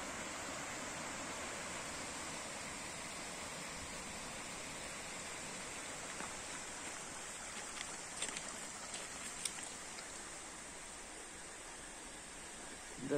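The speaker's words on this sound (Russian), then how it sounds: "Выходим на реку." A weakly flowing river in the Uch-Kosh gorge near Yalta makes a continuous, even rush of water for the whole stretch, with a few faint clicks and knocks near the end.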